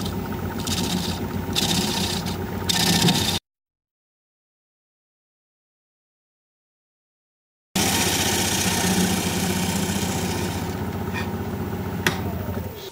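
A wood lathe spinning at 900 RPM while a freshly sharpened 5/8 inch bowl gouge cuts into a turning bowl blank, a steady motor hum with scraping, rubbing cuts, broken by a silent gap.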